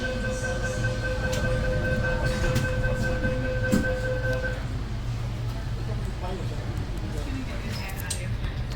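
Sydney Metro shuttle train pulling away from a station: steady rumble and whine of the train moving, with a two-tone chime or alert that stops partway through.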